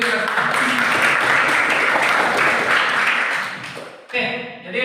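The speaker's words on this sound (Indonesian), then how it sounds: "Aplaus dulu untuk kita." A classroom of students applauds together. The clapping is dense and steady for about four seconds, then fades out, and a short burst of voices follows.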